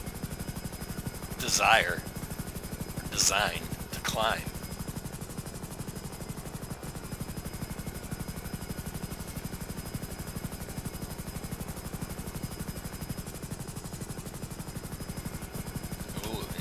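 A video game helicopter drones steadily throughout, racing at long-distance speed while descending. Someone talks over it in a few short bursts.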